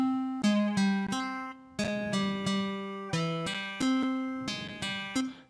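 Trap beat with a flanger effect, tonal bass and synth notes pulsing in a steady repeating pattern with sweeping, phased upper harmonics, loud and continuous with no talking.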